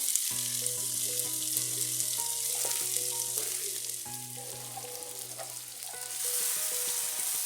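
Ground masala paste goes into frying chicken for a green masala gravy, producing a loud, steady sizzle throughout with occasional stirring scrapes and a few clinks, close up and with no talking.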